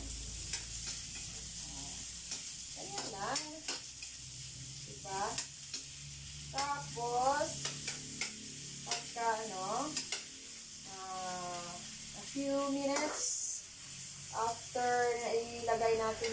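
Hotdogs frying in a pan with sautéed garlic and onion, a steady sizzle under a woman's chatter, with occasional scraping stirs and a short burst of louder spitting midway.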